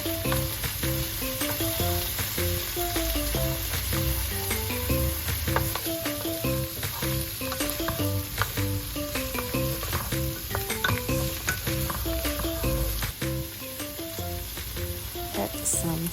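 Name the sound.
sausage and fresh shrimp stir-frying in a pan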